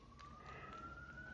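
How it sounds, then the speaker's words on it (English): A police siren wails faintly in the distance outside, its single tone slowly rising over low background rumble. "Apologies for the police siren."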